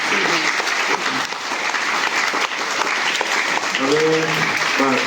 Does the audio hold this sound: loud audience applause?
yes